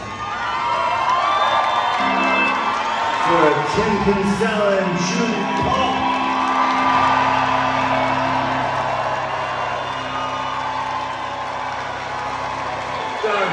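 A concert crowd at the Salt Shed in Chicago cheers, whoops and applauds loudly and continuously, with shouts rising above the roar while someone speaks briefly over it from the stage and low sustained tones hum underneath.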